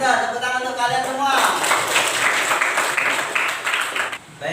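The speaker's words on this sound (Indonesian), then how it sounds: "Minta tepuk tangan untuk kalian semua." Students clapping together in a classroom during a teaching session. A teacher's voice comes first, then a burst of bright, busy applause from many small hands that carries on steadily before fading near the end.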